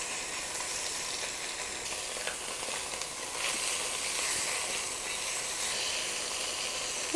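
Chicken sizzling in a pan on the stove for a macaroni and cheese chicken soup, a faint, even hiss of frying that holds steady throughout with no talking.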